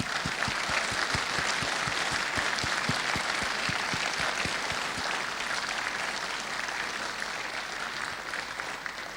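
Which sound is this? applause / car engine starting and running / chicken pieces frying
applause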